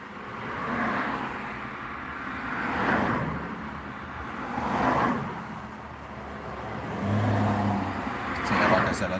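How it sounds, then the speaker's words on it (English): Road traffic passing outdoors, a steady rushing roar that swells and fades as several vehicles go by, heard under a person talking. "Traffic noise is a bit noisy."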